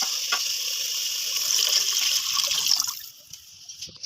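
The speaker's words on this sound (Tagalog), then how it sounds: "Lagayin ang tubig." Water poured into a cooking pot for sinigang na bangus, a steady close splashing gush that runs for about three seconds, then drops off to a faint trickle.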